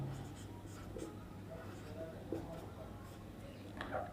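Pen scratching on paper while writing out a chemistry rate equation, soft intermittent strokes under a low steady hum.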